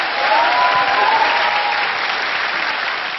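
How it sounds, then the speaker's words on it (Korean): Loud, sustained audience applause fills a Korean music competition TV show studio, dense and steady for about three seconds before easing slightly at the end, with no talk over it. "다시 한번 큰 박수 부탁드리겠습니다"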